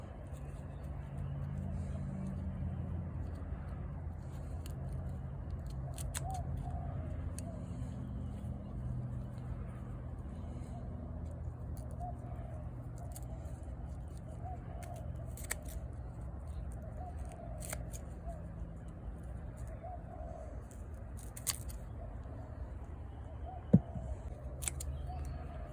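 Scissors or secateurs snip yacon fruiting tubers off the sprouting tuber outdoors, giving scattered sharp clicks over a steady low rumble, with a louder snap near the end.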